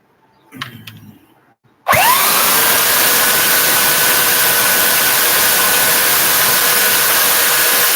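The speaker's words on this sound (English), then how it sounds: "you can take it down with the sander" A power sander works on a handmade knife in a workshop. It starts abruptly after a short faint scrape and runs loud and steady, a constant close whirring grind to the end.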